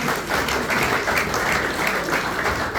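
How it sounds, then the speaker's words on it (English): Audience applause welcoming a speaker at a talk on music compositions, a steady, dense wash of clapping from a roomful of people, even in level and continuing without a break. "A round of applause once again."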